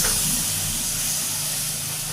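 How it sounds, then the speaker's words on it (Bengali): Water poured into hot masala frying in a pan, a loud, continuous steamy hiss that stays fairly even over two seconds, no speech. "এরপর আমি জল দিয়ে দিচ্ছি।"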